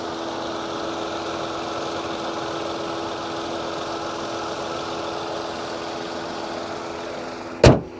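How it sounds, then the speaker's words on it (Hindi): The 1.2-litre three-cylinder engine of a 2025 Tata Punch runs at a steady idle, a low, even hum with no change in pace, and a single sharp knock or thud lands near the end. "3 सिलेंडर इंजन है"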